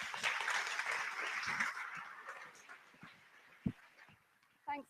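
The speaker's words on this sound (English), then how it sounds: "If we could have a big round of applause, please, everybody." At a marketing conference, an audience gives a speaker a round of applause. Dense clapping fades away after about two seconds, leaving a few scattered claps, a thump and faint room noise.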